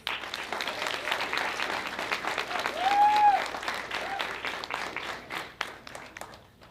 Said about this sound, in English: Let's give one more last round of applause for these.